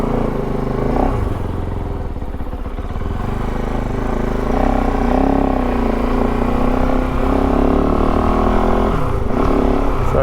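A warmed-up Kove 450 Rally motorcycle engine idling nearby, a loud, steady, throbbing drone with slight clattering and no revving.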